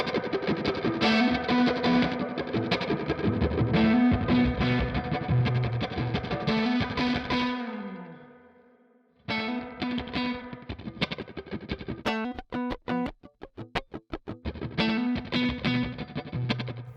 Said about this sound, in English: let's just play around with this guitar that does this kind of reef solo sound, and I use the Silver Llama on this one